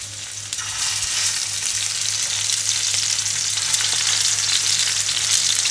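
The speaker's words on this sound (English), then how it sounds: "hopefully we'll hear a nice little sizzle as we put the pork in" Pork fillet frying in a hot pan with olive oil, giving a loud, steady, close sizzle and crackle that holds throughout with no talk.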